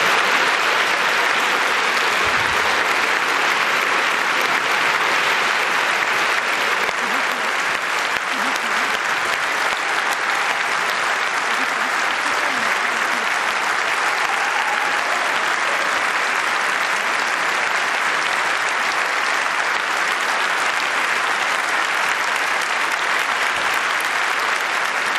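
Sustained applause in a parliamentary chamber after the vote adopting a constitutional bill, a steady dense wash of clapping from a large crowd that stays level and unbroken throughout.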